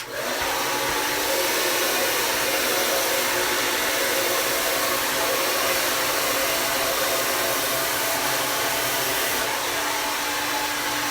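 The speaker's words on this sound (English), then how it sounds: "then grab the blow dryer" A hair blow dryer runs continuously at close range, a steady high-pitched whir with no talking.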